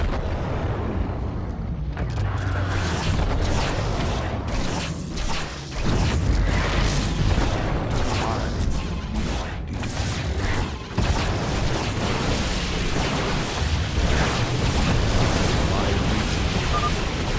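In StarCraft II, a cannon is destroyed amid continuous loud game explosions, booms and whooshing effects that stay dense and sustained throughout, with game dialogue mixed in.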